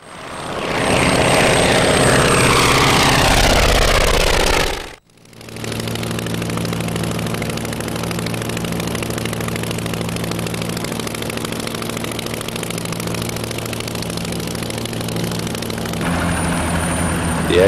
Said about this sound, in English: Built in 1941, it has a 160 horsepower Kinner engine.